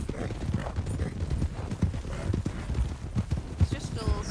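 Horse hooves in the Goldrush RP game clip-clop in a steady, fairly close rhythm, with voices talking over them.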